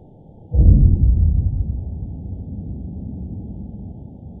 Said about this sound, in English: that sound was caught on a hydrophone and it is coming from an underwater oil rig